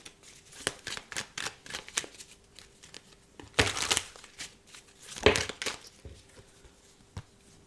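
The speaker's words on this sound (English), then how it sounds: "So whilst I'm shuffling this one" Tarot cards being shuffled by hand in a run of quick, crisp papery riffles and taps, with two longer, louder bursts of shuffling, close up and with no talking.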